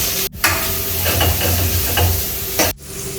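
A thick, coarsely ground paste of peanuts, green chili and garlic sizzles and crackles in a hot pan as a spoon stirs it, with a couple of scraping strokes across the bottom.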